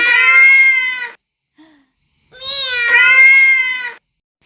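A pet cat gives two long, loud, close meows, each about a second and a half, separated by a quiet pause with a faint small sound, no talking over them.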